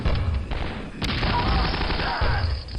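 Weapons fire in an unreleased Quake mod, a video game, with dense continuous shooting and explosive bursts filling the whole moment, including a sharp crack near the middle.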